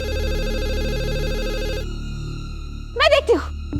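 A landline telephone in a home rings with a repeated electronic trill, loud and close, for about two seconds before stopping, after which a voice speaks briefly.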